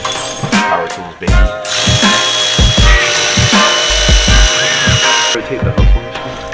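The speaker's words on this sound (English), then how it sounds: "Power tools, baby." Power tools whir and rattle while parts come off an E30 car, with repeated short ratcheting bursts and steady motor noise close by.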